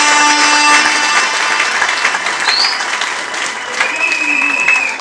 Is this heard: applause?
yes